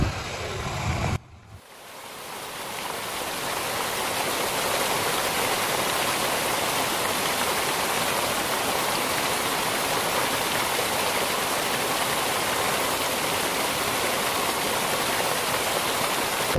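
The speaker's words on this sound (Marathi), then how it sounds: "गाईज बघितलं ना कसं आहे वॉटरफॉल." Waterfall water rushing loudly and steadily, a dense continuous roar that holds unbroken for the full length after a brief dip at the start.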